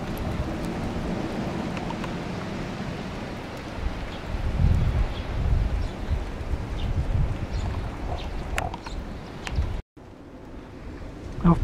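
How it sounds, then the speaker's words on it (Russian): Wind at an apiary gusts and roars in a broad, rushing wash of noise, steady with swelling peaks, and no talking. "и ветер такой дует"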